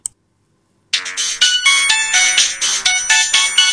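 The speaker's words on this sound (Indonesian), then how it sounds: "Ada telepon masuk." After a second of silence, a loud electronic phone ringtone starts up for an incoming call, a bright repeating melodic pattern of chiming notes that plays on steadily and alone.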